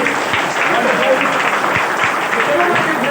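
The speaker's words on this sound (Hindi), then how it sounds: "अपने खुद के सम्मान में जोरदार ताली होनी चाहिए" A crowd applauds loudly and steadily, dense clapping filling the room without a break.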